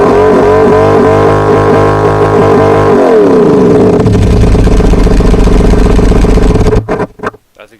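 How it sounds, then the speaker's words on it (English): A simulated 13-liter engine in an engine simulator game drones loudly with a deep, steady harmonic tone. Its pitch sweeps and shifts partway through, then it settles into a rough idle before cutting out abruptly. "It's a 13-liter engine."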